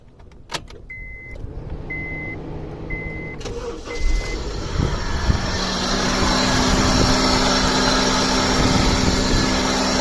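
A 2011 Honda Civic EX idles steadily while its faulty AC compressor clutch engages, the engine hum thickening into a louder, constant drone after a few clicks and a brief chime near the start, with no talking.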